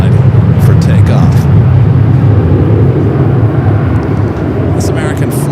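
An American Airlines jet takes off from the north side at LAX with a continuous heavy rumbling roar. A voice talks over it briefly, and a few faint higher whines pass through.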